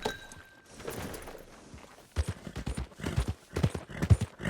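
Horse hooves clip-clop in the Red Dead Redemption 2 video game, a quiet start giving way to a steady close series of hoof strikes at walking pace, with brief speech early on.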